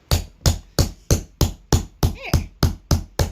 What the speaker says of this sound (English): just kind of hammering and trying to flatten that out as much as possible